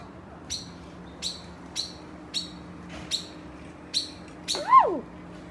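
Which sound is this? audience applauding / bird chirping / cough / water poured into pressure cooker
bird chirping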